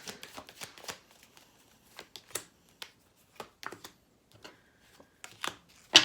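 Tarot cards being shuffled in a series of quick, crisp riffles and soft slaps, close and fairly quiet, with short pauses between bursts and no talking.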